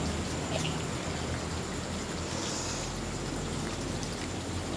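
Light rain falls steadily at night in a cemetery, a soft, even hiss of drops with no voices or other distinct sounds.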